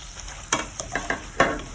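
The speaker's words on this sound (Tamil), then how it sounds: "ஒரு பேனில் எண்ணெயை சூடாக்கிட்டு நம்ம பரட்டி வச்சுருக்கிற வெண்டைக்காயை போட்டு எடுத்துட வேண்டியது தான்" Okra (ladies finger) frying in hot oil in a pan, a crackling sizzle with several quick spatula taps and scrapes in a short burst, close and clear, without voices.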